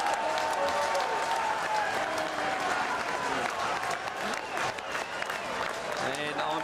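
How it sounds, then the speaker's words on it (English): A large crowd at an SANFL Australian football match between Glenelg and Adelaide applauds and cheers continuously after a goal, with a commentator talking over the noise. "just joining in the clapping because that was just sensational"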